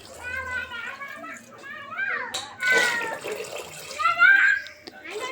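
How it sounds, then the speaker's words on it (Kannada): Water pours briefly into a pot of soaked rice being cooked for mushroom biryani, a splashing burst partway through while people talk in the background. "ಅದಕ್ಕೆ 3 ಲೋಟ ಹಾಕ್ತಾಯಿದ್ದೀವಿ ನೀರು"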